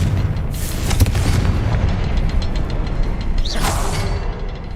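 A Confringo spell explodes in the video game Hogwarts Legacy: a loud booming blast with crackling debris and a sweeping whoosh, followed by a second burst near the end, with no voices.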